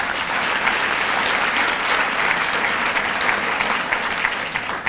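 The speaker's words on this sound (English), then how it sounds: "Once again, a big round of applause for them all." A gala dinner audience applauds in a banquet room, a thick, even roar of many people clapping that holds at a steady level from start to finish with no voices above it.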